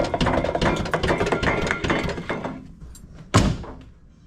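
Door of a squarebody Chevy C30 truck: a single solid metallic clunk close by near the end, following a few seconds of loud, dense clattering noise that fades out beforehand.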